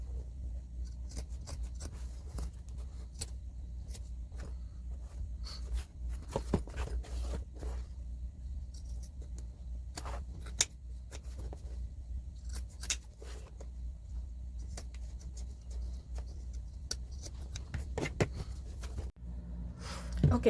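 Scissors trim the seam allowance on old denim jeans being sewn into a backpack, giving soft, scattered snips and fabric rustles spread across the stretch over a low steady room hum, with no one talking.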